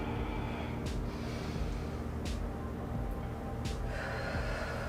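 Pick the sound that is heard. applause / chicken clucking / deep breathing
deep breathing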